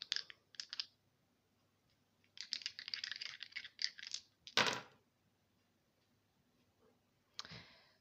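Small dice are handled close by: quiet bursts of light clicking and rattling, one sharper knock, and silent gaps between the bursts.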